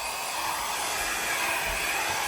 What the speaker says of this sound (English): I'm going to take my little baby blow dryer. I'm going to put it on high, but I'm going to hit the cool button.